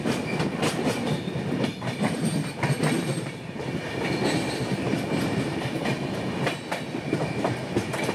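The Darjeeling Mail, a long-distance train out of New Jalpaiguri, running on its rails at night, heard from on board as a loud, continuous rumble with rhythmic clickety-clack of the wheels, without speech.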